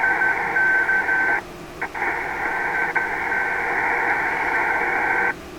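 Morse code on HF shortwave radio, received through a webSDR receiver, plays as a steady tone that keys on and off with brief breaks, partly buried in a constant hiss of static.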